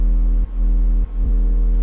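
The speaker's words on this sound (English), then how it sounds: "Now with it, just with the sidechain." An 808 bass with sidechain compression, a loud deep sustained tone that ducks sharply three times as kick hits cut in, then swells back.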